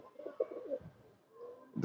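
A female pigeon coos softly at close range, a few low burbling notes followed by a brief pause and another coo starting.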